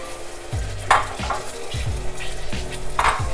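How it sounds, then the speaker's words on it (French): Cream poured all at once into hot melted salted butter in a pan on full heat, hissing and sizzling loudly while a utensil scrapes and stirs in repeated strokes close by. "Et hop, on rajoute la crème en une fois."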